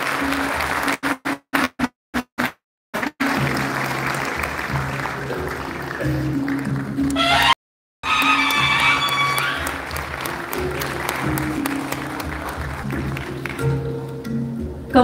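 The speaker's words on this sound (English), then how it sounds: "So can we please have a big round of applause for this young filmmaker?" Audience applause for a young filmmaker at a film festival award ceremony, starting in choppy bursts, then building into sustained clapping under steady background music, with a brief gap midway.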